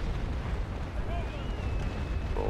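Cannon fire from a Spain versus France port battle in the naval game Naval Action, with ships firing chain shot: a dense, continuous rumble of distant booming broadsides under voice chatter.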